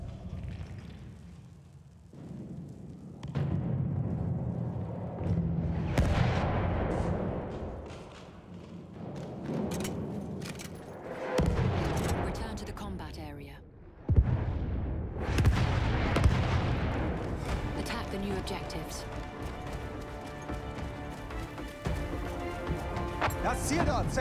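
Enemy artillery barrage in Battlefield 1, repeated heavy detonations and rumbling impacts at varying distance, dense and continuous across the stretch, with shouted voices and battlefield clatter mixed in.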